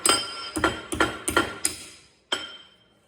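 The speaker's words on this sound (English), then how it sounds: "why I use a brass hammer" Brass hammer striking a steel hinge pin to bend it over: five quick ringing metallic blows in a steady rhythm, then a pause and one more sharp strike, close and clear with no talking.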